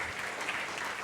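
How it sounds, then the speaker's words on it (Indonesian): A church congregation at a worship service applauds in praise, a steady, dense wash of clapping heard briefly at moderate loudness. "berikan tepuk tangan meriah buat Tuhan kita."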